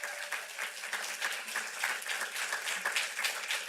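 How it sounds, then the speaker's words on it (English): Audience clapping at a Fair Housing Month kickoff event, a dense steady round of applause from a crowd, fairly close and even throughout. "Another round of applause."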